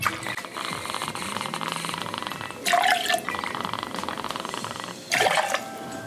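Bourbon is poured into a cocktail shaker or glass for a Christmas cocktail in a quiet kitchen, two short liquid pours standing out above a steady background hiss.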